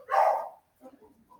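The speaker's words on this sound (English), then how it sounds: "maybe his barking sounds cute, but when he does that every day, it gets old" A dog lets out one loud, close bark, followed by a short gap and a few faint, soft sounds.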